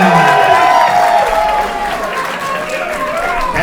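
A wrestling crowd cheers and applauds loudly for Becca, a dense continuous roar of voices and clapping that fades slightly over a few seconds.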